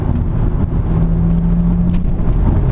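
Inside a Saab 9-3 Turbo X, the engine's drone holds steady and loud while the car accelerates. A faint tone rises gently over the road noise.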